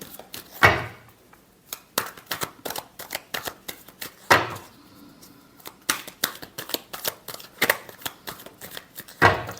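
A tarot deck is shuffled by hand, rapid rustling card riffles and taps repeating in irregular bursts with occasional louder slaps, close and with no talk.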